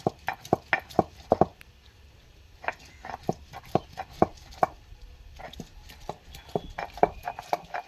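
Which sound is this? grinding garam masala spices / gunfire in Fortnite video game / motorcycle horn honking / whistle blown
grinding garam masala spices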